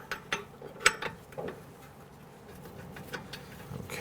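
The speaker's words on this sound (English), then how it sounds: "we're going to loosen and remove this bolt completely" A wrench clicks and ratchets in short, faint bursts while loosening a rear brake caliper bolt on a 2011-2017 Nissan Quest, a few sparse mechanical ticks close by with no talk.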